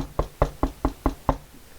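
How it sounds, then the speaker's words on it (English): Six quick, light knocks on a wooden door come in an even rhythm, small and close, followed by a short quiet. "You hear a knock on the door."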